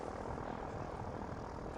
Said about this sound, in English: This is a government drone used to track down and capture illegal crossings on the English Channel.